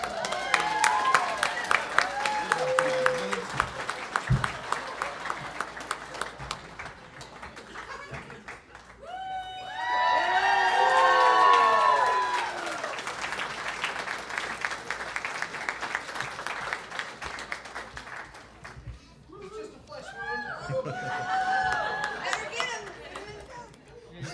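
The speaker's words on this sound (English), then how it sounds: "Give them a round of applause, folks." An audience applauds and cheers at a novice-division costume contest for a mermaid and pirate pair, clapping rising into a loud swell midway with scattered shouts, while voices chatter and talk over the crowd noise throughout.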